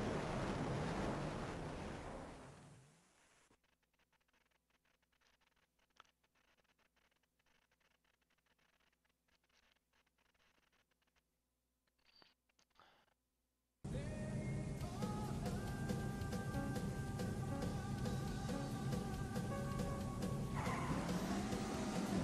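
Racing engines and music from a Top Gear race on Super Nintendo, loud at first, dropping to near silence for several seconds, then bursting back in with steady engine drone and tones.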